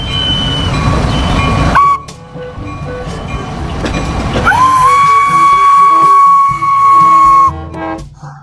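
A toy Thomas train rattles along its track with a steady clickety-clack, then lets out a long, high, sustained whistle tone, close and fairly loud.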